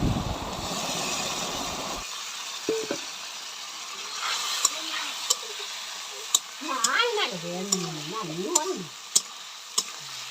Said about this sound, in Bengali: দেখুন এখানে আলু আর ডাঁটা ভালোভাবে মশলার সঙ্গে কষানো হয়ে গেছে